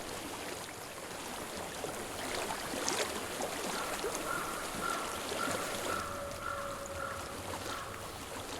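Water flows steadily through a rocky stream in the game Hellblade: Senua's Sacrifice. A constant broadband rush fills the whole stretch with no talk, and faint tonal hums drift in partway through.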